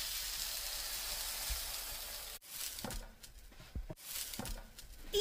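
Soaked keto French toast bread frying in a pan gives a steady, close sizzling hiss that is loud at first, then settles into quieter crackles and pops with brief gaps.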